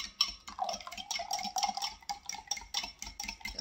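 Butter being streamed into corn muffin batter of buttermilk and eggs while it is whisked steadily: close, continuous wet swishing with rhythmic scraping strokes against the bowl.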